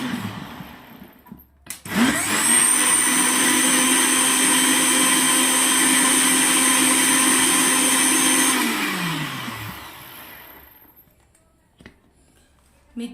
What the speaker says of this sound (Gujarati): મિક્સરના બે ઘૂમરા માર્યા પછી